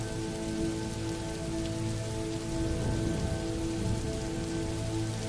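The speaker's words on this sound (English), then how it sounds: "the rain softened, gradually easing from a steady murmur to a gentle drizzle" Gentle rain falls on green leaves, a soft, steady patter of countless drops that swells slightly midway, quiet and evenly spread with no voices.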